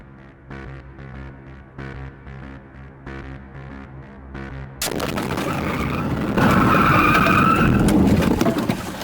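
A police car skids just before a crash, caught on dashcam. A quieter humming passage gives way abruptly to a loud, harsh burst of tire noise that stays intense to the end.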